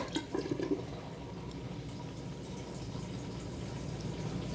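Water drains past a newly installed anti-clogging pop-up drain stopper, a steady close rush of flowing water preceded by a few brief drips, with no voices.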